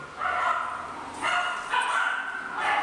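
Several small dogs bark and yip excitedly in a daycare playroom, a loud overlapping chorus in bursts with whimpers between, close by.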